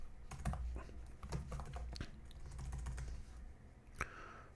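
Quiet, irregular clatter of keys typed on a computer keyboard, a run of close, light taps with short pauses and no voices.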